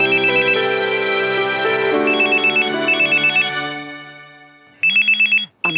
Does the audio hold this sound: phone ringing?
yes